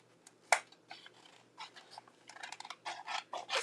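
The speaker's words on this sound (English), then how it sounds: "I'm going to go ahead and I'm going to cut that out" Scissors snip out a mixed media paper piece, one crisp cut followed by a run of quick rasping snips, close and quiet with no talking.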